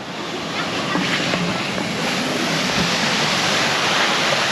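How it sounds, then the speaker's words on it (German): Water pours down steadily at a children's wild-water ride at the Schwaben Park theme park, a loud, continuous rushing wash that fills the whole clip without letting up. "Da kommt irgendwie Wasser runter"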